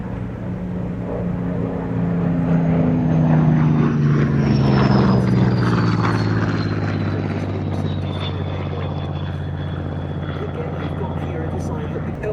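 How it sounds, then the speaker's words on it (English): Grumman Wildcat propeller fighter flying at the Duxford Battle of Britain air show, a loud droning engine whose pitch slides down as it passes, with a commentator talking over it. "As the Wildcat clears the remaining 2 aircraft run in"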